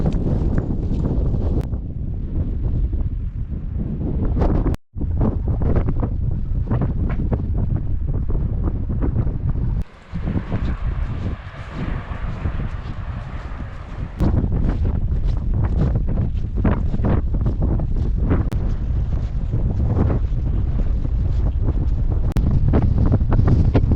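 Strong wind buffeting on an exposed coastal hilltop, a loud continuous roaring gust noise with brief drops and surges, close to the microphone throughout, no talking.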